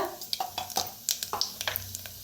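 Cumin seeds and a pinch of asafoetida sizzle in hot oil, heard close up as light, crackling pops. Quick scattered spits and taps sound over a soft, low frying bed.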